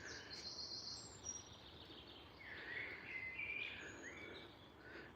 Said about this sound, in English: you can maybe hear quite a lot of the birds singing and chirping in the background there just now